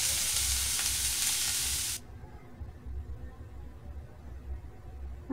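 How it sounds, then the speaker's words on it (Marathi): Onion-garlic masala with turmeric, coriander powder and red chilli powder sizzles loudly in a pan for about two seconds, then the hiss drops away to a quiet, low simmering background. "चांगलं हे परतून घ्यायचं आहे"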